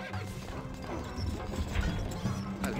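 Horse hooves gallop in a quick, rough clatter through battle bustle in the strategy game Stronghold: Crusader, moderately loud and continuous with scattered thuds and mechanical knocks.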